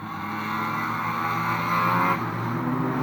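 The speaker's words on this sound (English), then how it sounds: "Lovely sounding Honda. In fairness, the VTEC version I think you'll find." A Honda VTEC race car at Fleet Raceway's 2006 trailer race meeting roars past, a loud sustained engine note swelling and then shifting pitch as it goes by.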